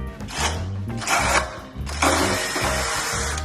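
A loud power drill on 2-speed whirring and grinding through material with a 1.5-inch bit in uneven surges, motor pitch rising and falling, close up and without talk.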